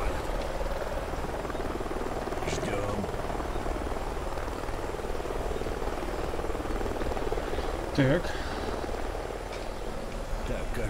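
Helicopter rotor drone in the video game Call of Duty Ghosts, a continuous, fairly faint whir under a few quiet spoken words, with a brief clank around the eighth second.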